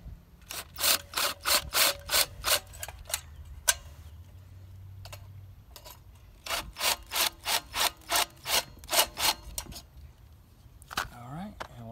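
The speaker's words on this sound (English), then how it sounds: "So you've got to widen the hole on the little control arm here. I always just take a little step bit" A step drill bit widening the hole in a small engine governor control arm, heard as two runs of rhythmic, loud, close rasping strokes separated by a pause.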